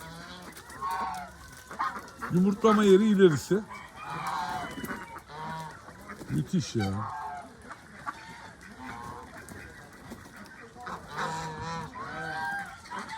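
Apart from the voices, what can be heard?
geese honking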